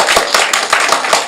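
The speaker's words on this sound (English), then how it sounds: "I please ask that you refrain from applause, calling out." Audience applause at a local government electoral area services committee meeting: a short burst of dense, bright hand-clapping from a crowd, steady and fairly close, with no voices over it.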